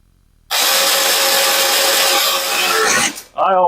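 A high-torque power tool drives bolts on a starter rope assembly in one loud, continuous whirring burst for about two and a half seconds, close by, then winds down before a voice speaks.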